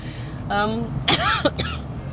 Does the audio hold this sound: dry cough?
yes